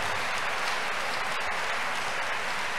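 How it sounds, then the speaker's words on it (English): Many worshippers at a crusade clap again, a loud, sustained, evenly dense crowd of hands clapping that holds steady throughout. "Clap for Jesus for that again."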